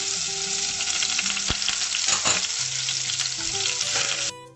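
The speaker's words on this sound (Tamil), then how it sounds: "இப்போ இதுக்குள்ள கடுகு, செத்த மிளகாய், கருவேப்பிலை 3 மண்ணிக்கில் போட்டு இப்போ வதக்கி கொண்டிருக்கேன்" Mustard seeds, dried chillies and curry leaves sauté in hot oil with a loud, dense sizzle and scattered pops and crackles, close up and constant until it cuts off abruptly near the end.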